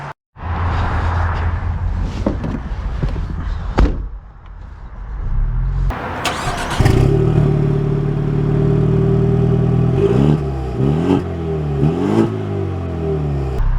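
A 2024 Ford Mustang EcoBoost drives off, its engine note swelling with steady revving and gear-like rises in pitch, loud and close, after a short burst of rustling. No one speaks.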